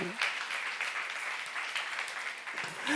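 Congregation applauding during a church youth-service sermon, a steady dense wash of clapping hands that holds evenly throughout at moderate level.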